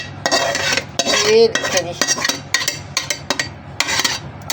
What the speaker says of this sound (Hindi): कढ़ाई की डिश आउट करते हैं।